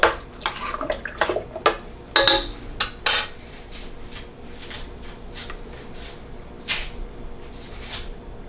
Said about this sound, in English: I'm just gonna stir it up.